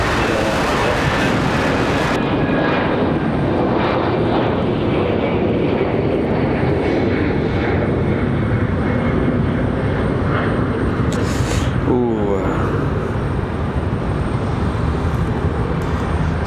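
An Avelo airliner at night at Raleigh-Durham International Airport roars loudly and continuously during its takeoff run, with a steady broadband engine rumble and rising whine. A voice is heard faintly under the noise.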